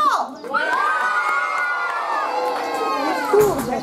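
Crowd of children shouting and cheering together, loud, close and sustained, with high excited voices rising and falling throughout and a brief whoop near the end, at a storytelling show set in a forest.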